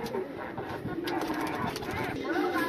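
Soft, low pigeon cooing up close, mixed in with a person talking nearby.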